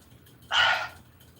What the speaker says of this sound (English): Yes, I have a Saint Bernard.